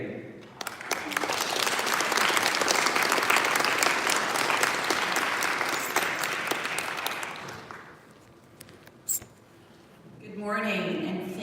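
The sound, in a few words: audience applause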